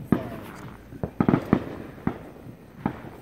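Several sharp Fourth of July fireworks bangs pop at irregular intervals, a quick cluster in the middle and scattered single cracks, moderately loud outdoors.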